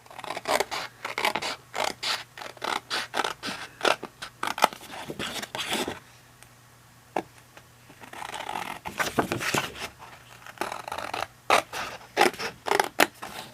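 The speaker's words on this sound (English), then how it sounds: "And then my scissors. I'm going to cut that." Scissors snip through paper in quick, repeated cuts, pausing briefly midway before resuming with a steady run of close crisp snips.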